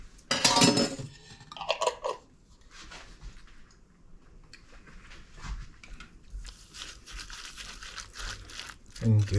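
Salmon cake mixture with breadcrumbs and a tablespoon of Grey Poupon Dijon mustard stirred in a bowl: clinks and scrapes of a utensil against the bowl with soft wet rustling, in uneven bursts with some talking.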